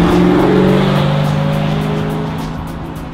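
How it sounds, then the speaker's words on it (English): A 2015 Dodge Challenger R/T Scat Pack with a 6.4-liter engine drives by, a loud steady engine drone with a slight tire hiss that eases off gradually over a few seconds, with no voices. "This is the new 2015 Dodge Challenger RT with the Scat Pack"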